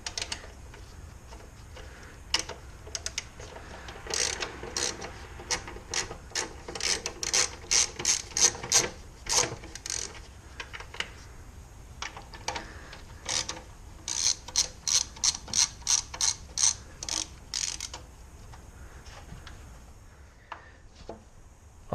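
Ratchet clicking in rapid bursts while loosening hex 5 bolts on the engine cover of a BMW E70 X5 3.0si, close and crisp, with short pauses between runs of pawl ticks.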